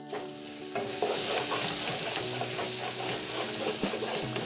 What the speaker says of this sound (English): So our mirepoix, our carrots, onions, and celery have been cooking for probably right about 7 minutes now.